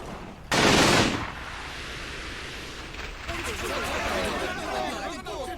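Machine gun fire in the World War II strategy game Combat Mission, a loud sharp burst near the start followed by a steady rumble of distant gunfire and battle noise.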